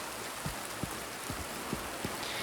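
Steady rain falls in the Silent Hill 2 remake video game, a dense even hiss with a few separate drops pattering close by, and no voices.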